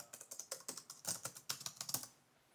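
Typing on the Cherry MX keyboard of an Alienware m17 R5 AMD Advantage Edition laptop: a quick, steady run of about twenty crisp key clicks, close and quiet, with no voices.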